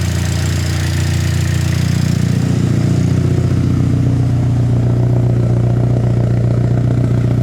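A turbocharged SR-Z engine idles up close with a steady, throaty low rumble and a faint mechanical clatter, its pitch settling slightly lower after a few seconds and holding even with no voices.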